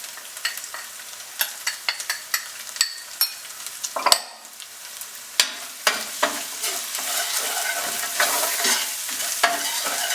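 Turmeric and chili powder with coriander and cumin sizzle and crackle in the pan for a pork and beef mince curry, a steady close fry punctuated by repeated sharp scrapes and stirring clacks, with no talking.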